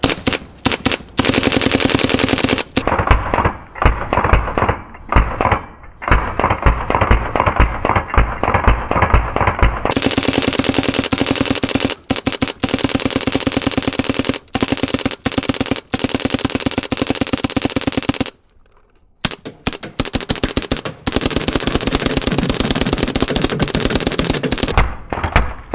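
WGP Karnivor Autococker paintball marker emptying a hopper in semi-auto, a loud, nearly unbroken rapid stream of sharp pops close by with one brief pause partway through, no talking.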